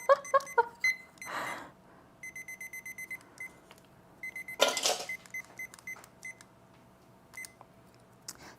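Kitchen timer beeping while banana bread bakes, two series of short rapid electronic beeps separated by a pause, fairly faint, mixed with brief handling clatter and some other tones.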